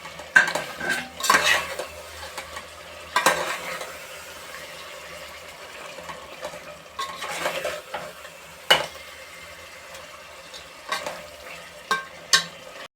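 Spoon scraping and clanking in a pot as fried keema balls are stirred into curd masala, repeated metallic knocks over a soft sizzle, no speech.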